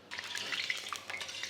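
Badam puri frying in oil over low heat gives a soft, steady crackle with small bubbling pops, close and continuous for a brief moment.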